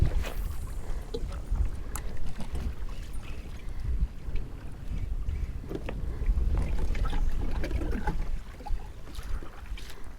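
Gusty wind blows across open water in rough conditions, rumbling against the microphone in uneven bursts with faint splashing, steady and close throughout.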